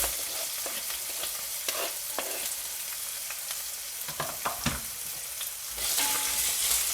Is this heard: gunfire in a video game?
no